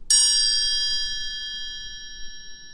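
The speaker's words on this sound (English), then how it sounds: "these finger cymbals, the really nice thick Westco ones, go forever" Thick Westco finger cymbals are struck once, giving a bright metallic ding that rings on with a long, slowly fading shimmer in an otherwise quiet room.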